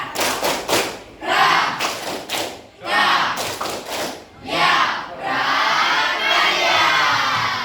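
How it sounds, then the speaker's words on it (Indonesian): A classroom of students performs a rhythmic clapping chant, the tepuk prakarya, in a crafts lesson: bursts of synchronized claps alternate with loud group shouting, ending in a sustained chant of voices. "Ayo kita tepuk prakarya"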